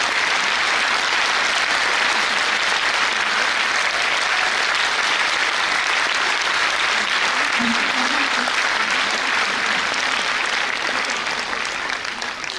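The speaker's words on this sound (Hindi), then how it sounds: "आप 27 गिनती करके तालियां बजाइए" A crowd at a Brahma Kumaris dedication ceremony claps continuously for over twelve seconds, a loud, dense and unbroken roar of applause that barely varies in strength.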